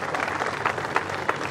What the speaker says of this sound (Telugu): గట్టిగా చప్పట్లు కొట్టారు